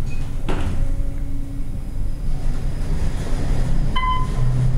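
An Otis traction elevator door in a museum atrium rolls shut with a short clunk and rumble, followed by a faint chime, heard close against steady background machine hum.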